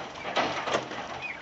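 A male quail crows once, a short hoarse two-part call, close and fairly quiet, with no talking.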